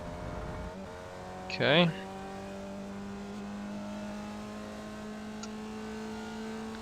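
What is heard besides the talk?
Formula Vee race car engine in iRacing video game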